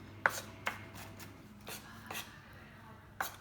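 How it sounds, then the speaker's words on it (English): A knife cuts onion finely on a chopping board for tandoori lamb burgers, sounding as a handful of faint, sparse taps spaced irregularly across a quiet background without speech. "You don't want big chunks of this onion turning up in your burger, so just cut it down nice and fine."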